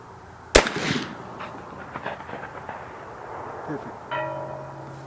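An 1874 Shiloh Sharps rifle in .45-70 fires one loud, sharp shot outdoors on a range. A rolling echo decays after the shot, and a faint metallic ring from a distant steel plate follows a few seconds later.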